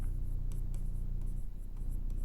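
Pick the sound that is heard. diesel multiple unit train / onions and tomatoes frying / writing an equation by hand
writing an equation by hand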